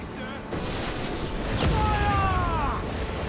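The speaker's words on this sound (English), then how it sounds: "Man, side cannon!" A ship's side cannons fire in Assassin's Creed IV Black Flag: one heavy, booming blast lands mid-clip over steady naval game ambience, followed by a thin whistling sweep.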